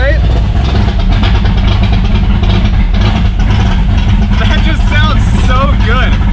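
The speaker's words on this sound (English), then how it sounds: "open up the headers and give it some revs" A loud 1,000-horsepower Pontiac Trans Am engine roars and revs continuously through open headers with a raw, unmuffled exhaust rasp, up close, while voices chatter faintly underneath.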